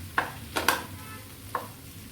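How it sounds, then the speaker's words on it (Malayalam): Cooked sweet potato gets stirred into a rice ball mixture, a few soft scraping and clicking strokes against the pan, quiet and irregular, with faint background noise beneath. "മധുരക്കിഴങ്ങ് ഈ റൈസ് ബോളിലേക്ക് നന്നായി ഒന്ന് മിക്സ് ചെയ്ത് കൊടുക്കാം"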